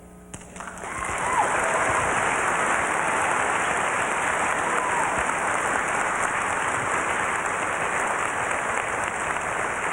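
An audience at the 1989 Worldcon science fiction convention breaks into applause after a brief quiet start. The dense, steady clapping of a large crowd swells and then holds for several seconds.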